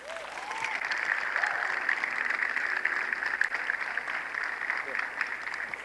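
A church congregation applauds throughout, a steady wash of clapping filling the room, with scattered voices calling out over it.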